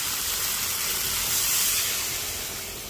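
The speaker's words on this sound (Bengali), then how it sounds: "এবার জল দিয়ে দেবো" Water hits new potatoes and spices frying in a pan, setting off a loud rushing hiss of steam that swells and then slowly eases off.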